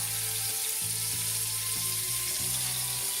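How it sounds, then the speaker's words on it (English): Chipolata sausage meat frying in olive oil over medium-high heat in a pan, a loud, constant close sizzle with faint scraping knocks as the meat is broken up. "tablespoon or so of olive oil in there, medium-high heat. I'm just going to go straight in with some of the sausage"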